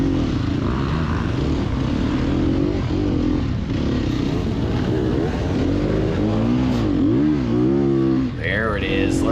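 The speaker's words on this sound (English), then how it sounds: "I love the motor on this bike." Sherco 300 SEF dirt bike engine revving hard at the start of an open class motocross race on sand, a loud continuous motor drone with rising and falling pitch sweeps, mixed with other bikes and crowd noise.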